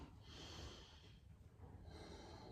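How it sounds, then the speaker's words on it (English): A single slow, deep inhalation through the nose during pranayama breathing practice: a soft, airy, steady hiss that is faint and close, rising again near the end. "Inhale"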